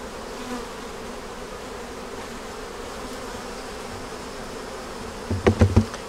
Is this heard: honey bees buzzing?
yes